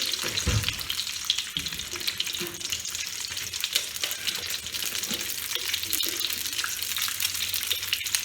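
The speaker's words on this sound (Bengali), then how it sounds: "ওই জন্য আমি ডিমটা ভেজে আপনাদের দেখাবো" Eggs frying in oil with bay leaves for egg korma, a loud, continuous crackling sizzle that stays close and steady throughout, with occasional stirring knocks and no speech.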